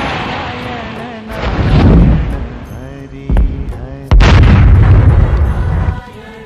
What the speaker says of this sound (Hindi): दूर से कहीं विस्फोट की आवाजें आ रही हैं। शायद ये ऊपर ग्लेशियर टूट रहे हैं।